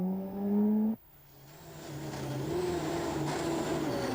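A rally car at the 1995 ELE-Rally driving over rough surfaces. A loud engine tone cuts off abruptly, then the engine note returns low and builds steadily as the car pulls away.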